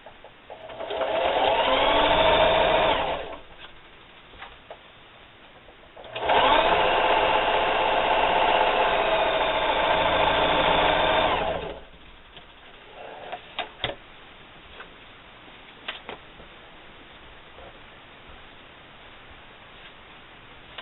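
A sewing machine stitches denim quilt rectangles together with a half-inch seam, two loud steady whirring runs of a few seconds each, followed by quiet handling clicks and rustles.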